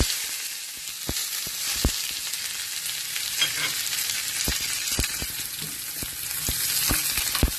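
Freshly chopped onions hit hot oil tempered with cumin seeds in a pan, giving a steady bright sizzle with occasional sharp pops and crackles, close and unbroken, with no voices.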